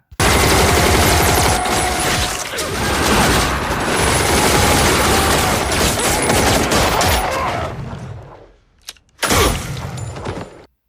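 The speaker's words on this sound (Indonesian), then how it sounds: "Saat mereka hendak menembak Marcus, tiba-tiba Otto dan yang lain langsung memberondong para gangster itu" Loud, sustained automatic machine-gun fire in a film rattles continuously for several seconds, then breaks off into a brief pause before a final burst of shots.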